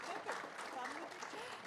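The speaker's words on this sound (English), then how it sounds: "let's give them a round of applause while we invite the next panel up" Conference audience applauding a panel, a soft, fairly distant patter of many hands clapping steadily throughout.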